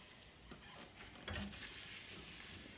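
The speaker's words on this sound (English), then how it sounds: "And then stir your eggs some more." Eggs frying in a pan and being stirred with a spatula, giving a faint, steady sizzle with soft scraping strokes and one brief louder clatter near the middle.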